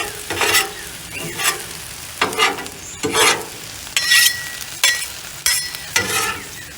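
Frozen shrimp sizzling on a hot griddle for shrimp fried rice, with loud bursts of crackling and hissing about every second as pieces are stirred and turned, close and with no talking.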